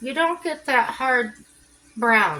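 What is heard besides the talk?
No distinct noise like a dog, phone or traffic.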